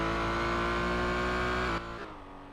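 A Porsche engine in the racing game Need For Speed Shift 2 holds a loud, steady high-revving drone, then drops in pitch and eases off near the end.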